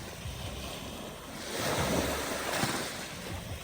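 Waves wash against the campsite shore at Lobo, Batangas, a steady hiss with a fuller surge building midway, mixed with wind noise on the microphone.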